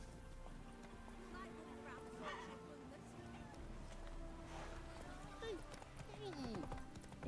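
Horse hooves clip-clopping at a run in Witcher 3, a steady rhythmic beat under game music and ambience, with someone talking over it.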